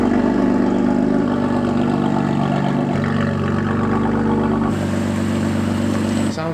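Modified BMW M2 Competition engine at tick over, a loud, deep burbling idle with slight shifts in tone, close by and with no talking.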